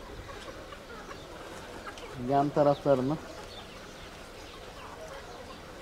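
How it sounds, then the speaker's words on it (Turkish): Chickens in a village coop give a short burst of three or four close clucks midway, over a low background hum, with brief speech in the clip. "Tavuklarımızın da bakımını yaptık."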